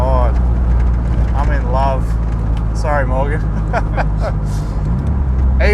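Nissan 180SX driving, a steady low engine and road drone running throughout beneath someone talking enthusiastically inside the car.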